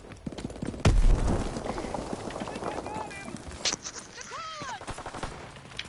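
Rapid bursts of gunfire from Call of Duty against bots, with a loud volley near the start and scattered shots after, mixed under casual talk between players.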